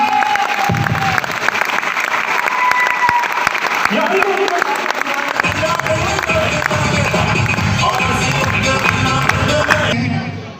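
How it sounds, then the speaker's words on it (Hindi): A crowd applauds loudly and continuously, with steady clapping and some cheering throughout. "तो एक बार गुरुदेव के लिए जोरदार ताली चाहूंगा।"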